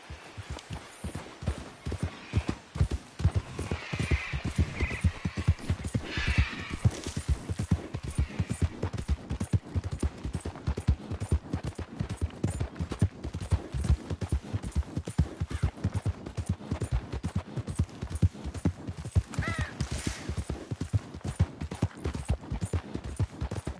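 Horse hooves clip-clop steadily in a PS4 video game, a continuous galloping rhythm of dull thuds lasting throughout, with faint in-game sounds layered underneath.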